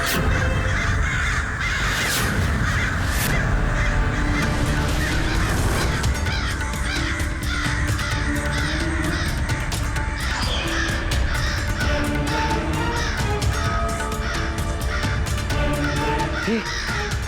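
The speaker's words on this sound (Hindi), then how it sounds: "ये कौवे कर क्या रहे हैं?" A flock of crows caws repeatedly in a dense, overlapping chorus of harsh calls over a busy background, loud and continuous without talk.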